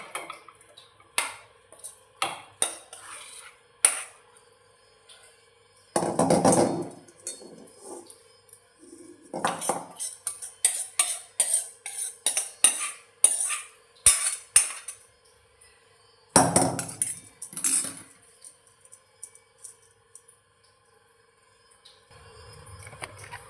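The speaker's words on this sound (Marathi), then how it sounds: "भाजी काढून घेते बाउलमध्ये" Tempered spinach curry (palak bhaji) is scooped from a pan into a bowl with a spoon, giving intermittent clinks, taps and scrapes in short bursts separated by quiet pauses.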